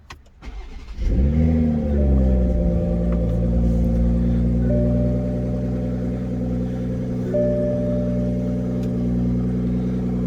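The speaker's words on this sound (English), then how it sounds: "I guess let me start the car." A 2023 Toyota GR Supra manual cranks and catches after a second, then settles into a steady, deep, powerful idle with a low rumble, close by.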